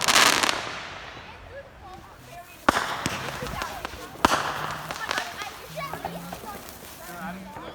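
Canada Day fireworks bursting outdoors, with sharp loud bangs near 2.7 and 4.3 seconds among scattered crackles and booms over steady crowd noise and chatter.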